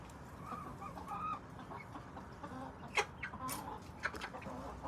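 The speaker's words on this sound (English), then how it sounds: "I think Big Bird's had it with younger chickens." Backyard chickens cluck and murmur in a coop with younger hens, soft continuous fowl chatter with a few sharper calls standing out, moderately close.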